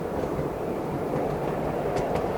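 A miniature park railway train runs along its track, producing a continuous rumbling roll with a couple of faint squeals near the end, steady and fairly close, with no one speaking.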